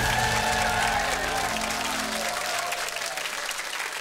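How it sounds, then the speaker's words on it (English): A studio audience gives a warm round of applause to a primary school quiz team on a school quiz show. Dense clapping stays steady and fairly loud before thinning out toward the end. "Give them a huge round of applause."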